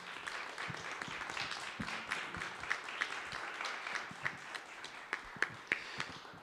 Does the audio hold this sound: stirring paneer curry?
no